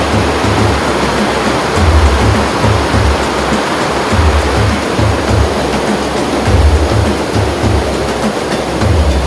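Antong Falls roars with strong rushing water, a loud, steady, dense wash of noise with deep rumbling pulses underneath, close by and continuous with no talking.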